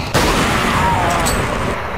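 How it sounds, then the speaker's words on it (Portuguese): Gunfire from the Resident Evil 4 video game, with Leon's Hand Cannon among the weapons: a dense, continuous burst of shots and booms that starts abruptly and stays loud, close and unbroken for the full two seconds. "dei 4 tiros, terminar ele com a Hand Cannon"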